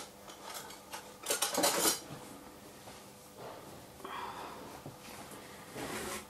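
A teaspoon clinks and scrapes against dishes during cupcake soap making, with a short cluster of bright metallic taps followed by a few quieter clinks spaced apart, close by in a quiet room.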